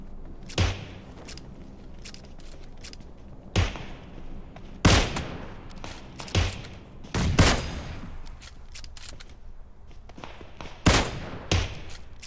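Gunfire from the PUBG Mobile battle royale game: scattered loud single shots and short bursts ring out at irregular intervals over a low, steady background.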